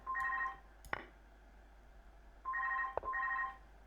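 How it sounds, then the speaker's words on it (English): A telephone rings in repeated electronic double bursts with short pauses between them. The ringing is moderately loud and alone, with a few faint clicks. "That's the phone again, I'll have to ignore"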